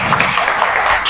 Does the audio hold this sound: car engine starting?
no